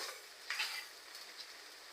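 Eggplant pieces sizzle softly in hot spiced oil in a pan, a steady faint hiss with a brief louder spit as the pieces go in.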